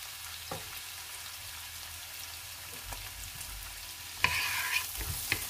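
Onions dropped into hot oil in a pot for a traditional goulash, frying with a steady close sizzle and crackle, then a louder burst of hissing as more go in, with occasional stirring scrapes.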